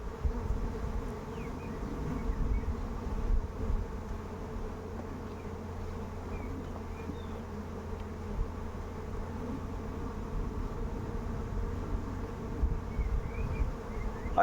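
Honeybees drone continuously around an open hive during a swarm check and hive transfer, a dense low steady buzzing close by with individual bees flicking past now and then.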